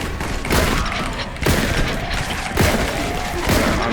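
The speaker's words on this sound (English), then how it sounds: "Let's use grenades." Grenades go off one after another in Warhammer Boltgun, four heavy blasts at roughly even intervals over a constant loud background of combat noise.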